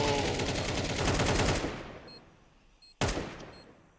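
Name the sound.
AK rifle gunfire in a Counter-Strike video game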